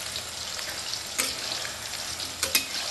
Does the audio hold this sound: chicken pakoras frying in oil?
yes